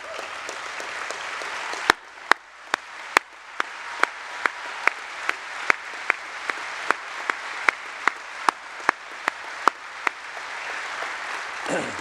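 A convention hall crowd at a USW convention applauds veterans, producing sustained, even clapping for about twelve seconds, with a few sharp louder claps standing out at regular intervals.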